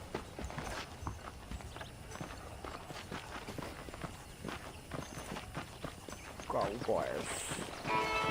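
Steady clip-clop of horse hooves walking in the video game Red Dead Redemption, close and continuous, with a voice talking over it and a brief jingle near the end.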